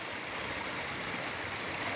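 A river's steady rushing water, a continuous broadband wash of a flowing current with no pauses, moderately loud and close.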